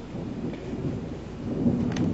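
Low thunder rumbles and swells with rain falling steadily outside, building slightly louder toward the end, with no voices.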